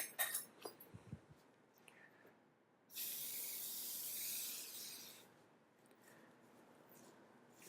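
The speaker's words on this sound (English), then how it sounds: "then it's just a matter of spraying it down" A steady hissing spray of cleaner onto airgun parts lasts about two seconds after some light clinks and handling noises, then fades into quieter rustling.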